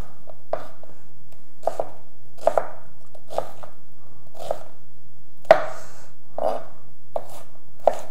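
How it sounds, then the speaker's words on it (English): Onions are chopped with a knife on a cutting board, roughly ten crisp, evenly spaced chops in a steady rhythm, loud and close with no talking. "So I'm just gonna chop this up."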